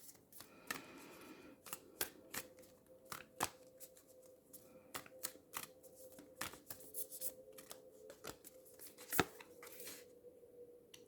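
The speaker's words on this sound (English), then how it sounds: "let's just pull a couple of Moonology clarifier cards." Oracle cards being shuffled and pulled by hand, soft quiet riffles and crisp snaps of card stock repeating in uneven bursts, close up with no voices.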